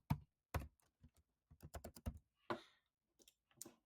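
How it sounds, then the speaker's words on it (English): Someone types an address on a computer keyboard, sparse bursts of quiet, close key clicks in irregular clusters, alone with no talk. "I'm going to type in an address"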